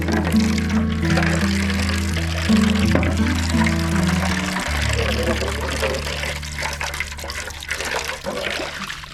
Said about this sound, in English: these are kind of dirty from being in the potting shed all winter, so we're just going to rinse it off